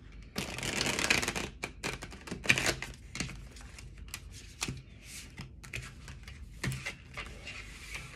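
Tarot cards shuffled by hand in a quiet room, several bursts of dense riffling and flicking with brief pauses between them, fairly close and moderately loud, no talking.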